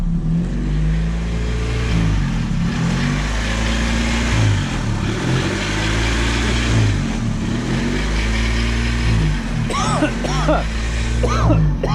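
A Honda Civic engine that sat untouched for eight years idles with a sticking idle air control valve, a loud steady mid-low engine drone with uneven surges throughout, close to the microphone, with a brief voice near the end.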